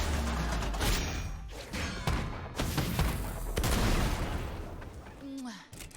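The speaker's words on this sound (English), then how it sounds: "I'm about to explode this whole board." Board explosion in the Legends of Runeterra card game, played by Gangplank: a rapid series of booming thuds and blasts rolls through several seconds, then fades with a brief voice-like effect near the end.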